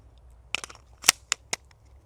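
An Alfa Foxtrot Romulus 2011 pistol fires a quick string of about five sharp, loud shots, a couple landing close together, over a low rumbling background with no speech.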